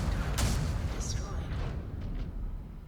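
Incoming missile fire in the video game MechWarrior 5: Clans brings a dense rumbling barrage with sharp bursts and whooshing streaks, low booms rolling throughout under battle noise.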